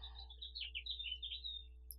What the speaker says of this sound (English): Hear the little birdie outside? He's been chirping away.